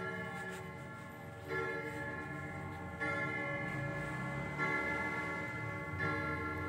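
A mini train at Benteng Van der Wijck in Gombong starting to move: a steady, tonal chiming sound that steps up in loudness every second or so in a repeating pattern, fairly close, with no talking.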